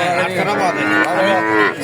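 A single cow moos loudly and close, one drawn-out low call, at a cattle market in Bogura, Bangladesh.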